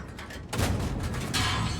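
Artillery shells land in a tank video game, two heavy blasts arriving in quick succession over continuous battlefield rumble, close and loud.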